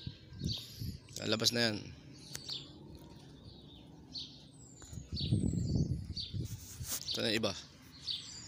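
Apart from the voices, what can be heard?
pigeons coming out, cooing and flapping wings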